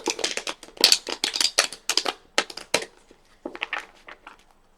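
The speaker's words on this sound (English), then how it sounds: "Let's get a good shuffle here." A deck of tarot cards is shuffled by hand during a reading, giving close, crisp papery riffles and slaps in quick irregular bursts that thin out toward the end, with no talking.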